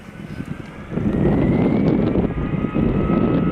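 A jet airliner at Amsterdam Schiphol Airport powers up for takeoff in gusty, showery weather, its engine roar swelling and holding steady with wind buffeting the microphone.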